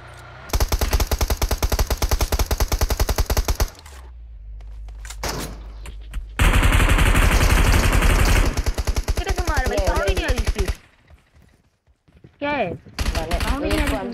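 Rapid, loud bursts of M249 automatic gunfire in a battle royale video game, broken by brief pauses, with voices and other game sounds in between.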